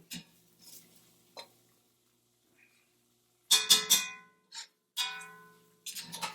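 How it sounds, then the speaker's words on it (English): Curry goat meat browning in a pot, heard as intermittent scraping and stirring bursts with faint sizzling between them, close by and moderately loud, with quiet gaps. "Just going to let that go ahead and do its thing and brown a little bit. Cook the curry."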